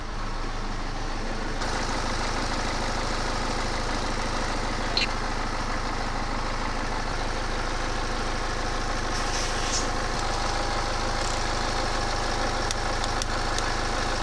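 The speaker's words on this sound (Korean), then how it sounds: "자 이제 주입을 해놓은 상태에서 시동을 걸고 아, 미션 오일에 열을 좀 올리는 겁니다" A used car's engine idles steadily to warm the transmission oil after a fluid fill, a constant low hum with a faint mechanical rattle, close by and unbroken throughout.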